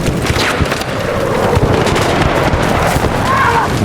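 Grenade explosion on a Battlefield 6 beta multiplayer battlefield, a loud close burst within a dense chaotic din of gunfire and blasts, with a player's voice talking over it.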